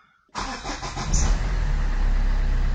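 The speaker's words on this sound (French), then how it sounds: "donc j'ai démarré la voiture." A Citroën Xantia engine cranks and catches after a moment of quiet, then settles into a steady low idle, close and fairly loud.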